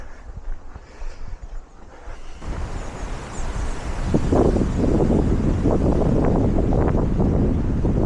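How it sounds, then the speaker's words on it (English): Strong wind buffeting the microphone in Sherwood Forest, starting as lighter rustling then rising into a loud, sustained roaring gust. "Quite a gust, isn't it?"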